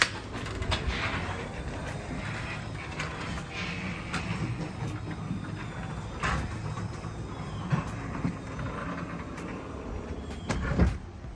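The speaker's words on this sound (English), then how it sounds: "Let's go ahead and close the door again." A garage door rolls shut with a long rumbling, rattling glide, punctuated by clanks and knocks, ending in a louder thump near the close; no speech.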